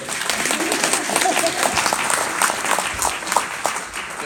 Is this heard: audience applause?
yes